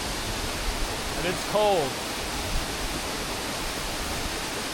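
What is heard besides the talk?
waterfall in Bali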